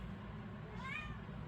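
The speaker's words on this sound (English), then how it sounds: "Oh my god, my cat. Let me let my cat in." A house cat gives one short, faint, rising meow indoors over a steady low background hum.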